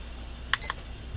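A kitchen timer starts at a crafting table, giving a short pair of bright electronic beeps close by in an otherwise quiet room.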